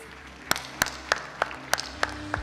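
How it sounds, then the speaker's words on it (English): A handful of people at a Garmin Fenix 8 launch event clap slowly and sparsely: about seven crisp, evenly spaced claps, fairly quiet, over a low background hum, with no talking. "A round of applause for him, please."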